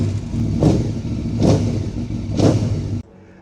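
A 2025 Yamaha YZ250F dirt bike engine is revved hard three times in a steady rhythm, each blip rising over a loud, close idle before the engine cuts off abruptly.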